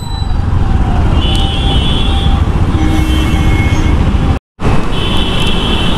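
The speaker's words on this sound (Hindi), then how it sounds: "तो वापस से अभी ट्रैफिक तो ऑन हो गया" Steady road traffic on VIP Road in Kolkata beside metro construction works, a loud continuous roar of passing cars, buses and trucks close by, with a brief dropout near the end.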